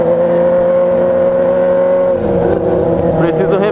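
Honda Hornet motorcycle engine holding a steady buzzing drone, then rising in pitch as the rider revs harder, loud and close throughout.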